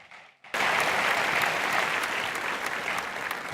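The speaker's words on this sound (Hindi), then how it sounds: "तालियों की गड़गड़ाहट के साथ प्रोफेसर रामजीत सिंह जी का स्वागत।" Audience applause bursts out after a brief quiet moment and holds steady and loud, a dense wash of clapping greeting a professor arriving on the stage at a conference session.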